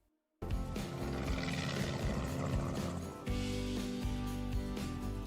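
A helicopter drones over the Namibian savanna with a rhino hanging beneath it, a loud, continuous rotor roar that starts abruptly, dips briefly, then returns steady.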